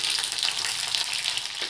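Whole garlic and a few dried chillies fry in hot oil for a tomato chutney, a dense, continuous crackling sizzle close by and fairly loud, with no talking.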